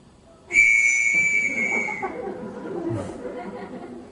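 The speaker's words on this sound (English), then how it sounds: "Everybody in this house answers to a whistle." A loud, shrill household call whistle sounds from about half a second in, a sustained two-tone blast lasting around a second and a half before tapering off, with faint murmuring and movement in the room afterward.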